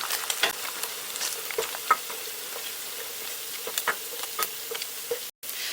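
Tofu sizzles and crackles in hot oil in a pan, a steady, busy frying hiss dotted with sharp pops that cuts out briefly near the end, with no voices.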